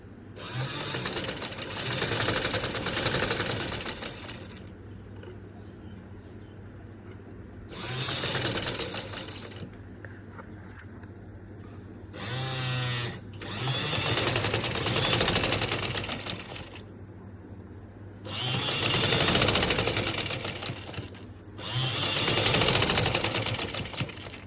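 Sewing machine stitching a sleeve border in several bursts of rapid mechanical whirring, each a few seconds long, separated by brief pauses with low background hum.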